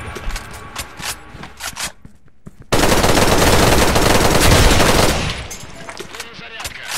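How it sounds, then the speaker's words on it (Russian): Loud bursts of rapid gunfire in the video game Special Force 2, including a sustained roaring volley in the middle, with sharp individual shots before and after. "Второй выстрел."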